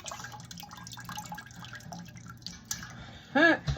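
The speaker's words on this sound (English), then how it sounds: "it says ladle the curds in" Queso fresco curds are ladled out, with soft wet drips and splashes of whey and liquid close by, ending in a louder burst of sloshing.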